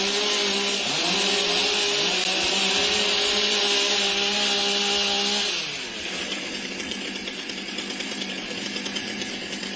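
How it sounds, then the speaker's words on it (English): Chainsaws rev loud and steady at a timbersports race, holding a high buzzing whine for several seconds before dropping back to a rougher, lower idle with rattling pulses. "Warm up for your saws."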